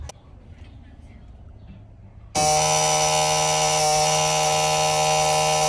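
A loud, steady electronic alarm buzz switches on abruptly partway through and holds continuously, with quiet room noise beforehand.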